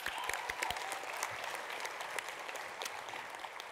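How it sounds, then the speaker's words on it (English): Graduation ceremony audience clapping for a graduate, a sustained, fairly even burst of applause from a sizable crowd at moderate distance, with some sharper individual claps standing out. "Let's give a clap."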